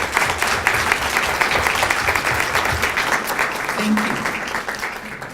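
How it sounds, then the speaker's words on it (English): Sustained applause from an audience honoring faculty at an International Education Week opening ceremony, dense and steady throughout, gradually fading slightly, with a brief spoken word over it. "Please give them a round of applause"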